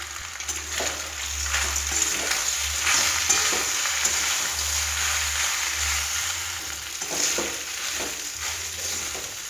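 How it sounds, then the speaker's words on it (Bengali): Boiled shell pasta frying in oil in a pan with salt and turmeric, a steady close sizzle with scraping stir strokes throughout and no talking. "পাস্তা ভাজবো।"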